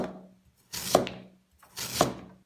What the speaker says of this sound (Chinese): 首先，我们准备2个黄瓤红薯，去皮洗净，切成厚片